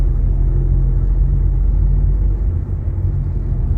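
A heavy car climbs a steep hill road on Koh Chang, its engine a steady low rumble that stays loud and close throughout, with a slight dip near the end.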